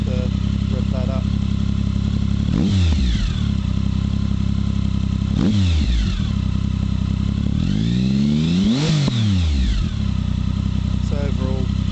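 A Triumph Speed Triple 1050 fitted with an Arrow exhaust, baffles in, idles with a steady loud rumble and is blipped three times, the last blip held longer and swelling into a deep, sweet rev before settling back.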